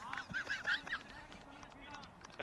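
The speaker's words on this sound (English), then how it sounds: "A family of Derek the Ducks" Geese or ducks honk in a quick run of nasal calls near a cricket ground in Dresden during a live match, fairly close, then fading into quieter background murmur.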